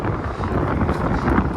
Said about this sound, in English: Man, it is stupid windy out here